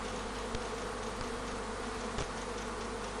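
Honeybees swarm out of the hive in a dense, loud, continuous buzz of many wings, steady and close throughout with a few faint knocks.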